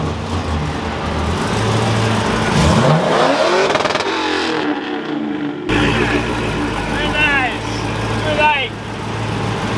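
Ford F250 Crew Cab pickup engine revving hard, rising and falling in loud sweeps up close, then settling into a steady rumble with more revving bursts later.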